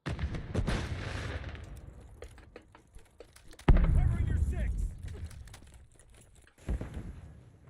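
Heavy-recoil gunfire in a shooter video game: a burst of shots at the start, then a loud booming blast midway and another sharp shot near the end, separated by quieter stretches.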